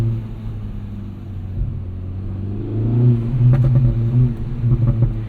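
A 2024 Acura Integra Type S with a Sport Plus tune rumbles and revs, its exhaust rising then crackling with a short run of quick pops and burbles, close to the car.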